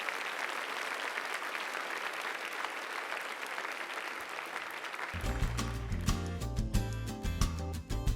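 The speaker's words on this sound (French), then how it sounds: "Donnons une main d'applaudissement au Seigneur ce matin." A church congregation at a French-language Sunday service claps steadily for about five seconds, then music with a strong bass line and a beat comes in under continued clapping.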